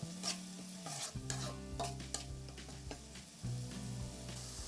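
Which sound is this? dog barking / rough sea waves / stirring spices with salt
stirring spices with salt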